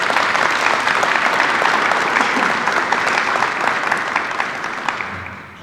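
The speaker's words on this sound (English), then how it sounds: "Please give these individuals a round of applause." A high school hall of fame ceremony audience applauds inductees with steady, full clapping that holds for several seconds and then tapers off near the end.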